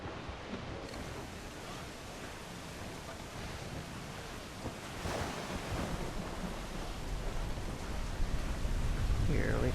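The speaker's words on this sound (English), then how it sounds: "Dark skies and rough seas there!" Rough ocean waves crash and surge during a stormy sea voyage in Assassin's Creed IV Black Flag, a dense roaring wash of surf and wind that swells louder toward the end.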